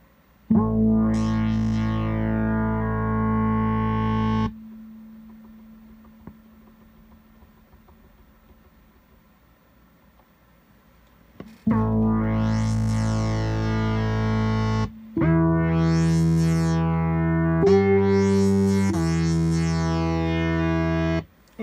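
An instrument plays through an Empress ZOIA pedal patch with an expression pedal routed to it, producing heavy, distorted, effects-laden sustained notes. One long held tone decays into a quiet gap, then loud chords return in several blocks.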